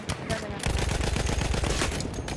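Heavy machine gun fire in Battlefield 1 conquest, a sustained rapid rattle of loud, close automatic shots after a few scattered opening bangs, with distant battle noise around it.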